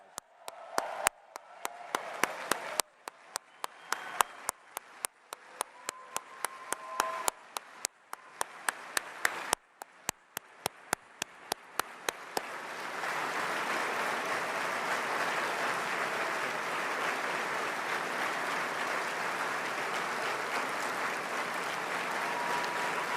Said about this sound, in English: and I'd like us all to give them a big round of applause.